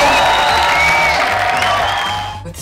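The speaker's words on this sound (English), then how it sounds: "The crowd was loving it." Crowd cheering at the Slackline World Cup at Königsplatz in Munich: a loud, sustained wash of voices with whistles and whoops, tapering slightly at the end.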